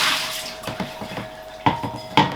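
Hot tap water runs to refill a snake's water bowl, a continuous splashing stream with sharp clinks of the bowl against the sink at intervals.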